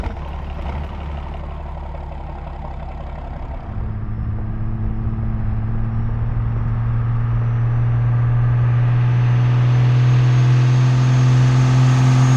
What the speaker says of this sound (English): The Bradley is a little bit slow and lumbering, but it does have a pretty unique sound.